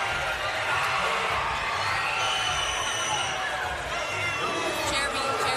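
Spectators at an under-19 men's all-star basketball game in a sports centre hall, a continuous busy murmur of crowd chatter with occasional shouts and faint ball bounces mixed in.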